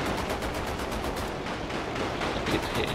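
Anti-aircraft machine gun on an M-16 halftrack in War Thunder, a continuous rattling stream of rapid shots, fairly loud and steady throughout, without speech.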